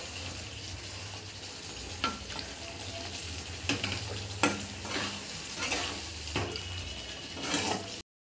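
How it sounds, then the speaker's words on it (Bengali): Bhetki fish bones and belly pieces being stirred in a pan, with a steady low frying hiss and a few sharp scraping knocks of the spatula spaced across it, no voices. "এইভাবে বেশ কিছুক্ষণ আমি নাড়াচাড়া করবো"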